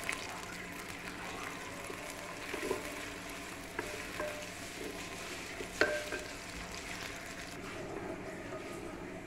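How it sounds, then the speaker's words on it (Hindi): Onions frying in a pan for mixed daal makhani, a soft steady sizzle with faint stirring clicks, heard alone and quietly. "अब ये फ्राई हो रहे हैं।"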